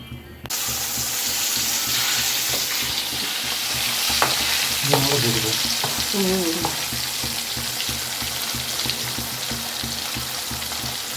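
Fish sizzling in a pan for a Tamil-style fish curry, a steady crackling fry with a few scraping stirs and faint clinks partway through, continuous and close, with no talking.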